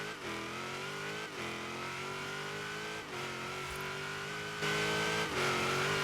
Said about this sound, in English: I'm gonna turn up the volume so you can hear this supercharger whine.